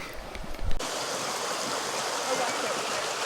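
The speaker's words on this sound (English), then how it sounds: "The waterways are getting a bit more turbulent here." Turbulent water rushes through a levada irrigation channel in Madeira, a loud continuous broadband roar filling the space right after a brief burst of talk and handling noise.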